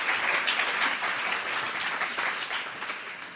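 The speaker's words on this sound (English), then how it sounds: "Let's please give another round of applause for our entire panel." An audience applauds a panel at a talk on women's equity, a dense wash of clapping that stays steady and fairly loud, then eases slightly near the end, with no one speaking over it.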